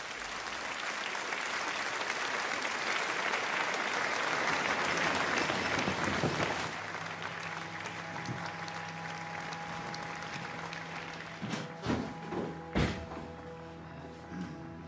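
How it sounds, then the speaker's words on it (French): A theatre audience of French and German spectators applauds at the end of the first act of an André Messager operetta, a dense sustained clapping that fades after several seconds into scattered thumps and a quiet room. "Dans la salle, des Français et des Allemands applaudissent le concert la fin du premier acte."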